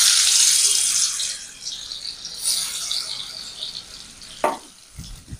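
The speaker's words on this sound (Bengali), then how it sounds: "পনিরটা একটু হালকা করে ভেজে নেব।" Paneer fries in oil with a spoonful of ghee, giving a bright, crackling sizzle that is loud at first and then eases. A sharp clink of a utensil sounds near the end, and no one speaks.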